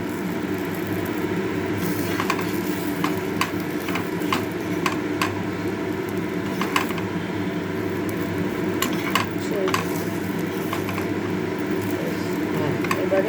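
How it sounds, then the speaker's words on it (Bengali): An egg roll fries on a hot tawa with a steady, close sizzle, broken by scattered light clicks and taps from a utensil. "রোল করে এটাকে কিছুক্ষণের জন্য তাওয়ায় ভেজে"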